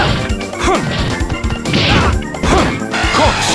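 Dudley's Corkscrew Blow punch landing on Ken in a Street Fighter-style fighting game: loud, dense repeated impact smashes and thwacks over busy game music and effects, several hits spread across a few seconds.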